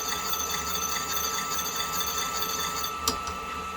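A guilloché grinding wheel rubs against a rotating watch part, giving a steady, even whirring rasp close by, with a single sharp tick near the end.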